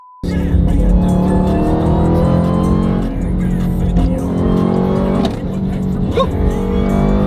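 Jeep Grand Cherokee Trackhawk on big rims pulling away hard, its engine roaring loudly and continuously with revving and tire squeal, close by throughout.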